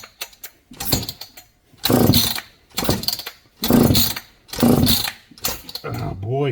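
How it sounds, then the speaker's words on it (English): A ported Stihl 266SE chainsaw being pull-started by hand over and over for a compression test, the throttle plate closed, giving about five rhythmic whirring cord pulls close up, each a loud surge with short gaps between. "I'll do about 8 to 10 pulls on it until the gauge stops moving"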